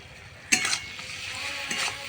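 Masala with sour yogurt is stirred in a pan, giving a soft frying sizzle with a few scraping strokes of the spoon, close and moderately quiet.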